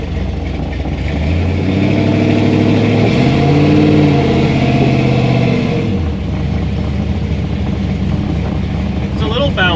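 A 1964 Chevy II on its first drive revs up with a rising, throaty engine and exhaust drone that climbs for a few seconds, then falls away to a lower rumble, loud and close with little else over it.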